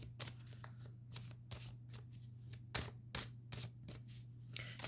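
A deck of astrology cards being shuffled by hand in quick, uneven bursts of riffling and sliding, close and soft, with brief pauses between handfuls; no voices.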